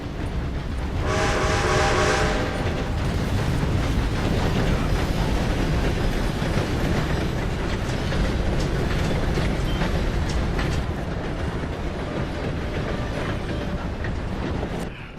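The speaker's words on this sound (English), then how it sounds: "Gotta beat that train, Morgan!" A train in the video game Red Dead Redemption 2 rumbles past loud and close, a steady heavy roar with a brief horn blast near the start, continuing for the full length.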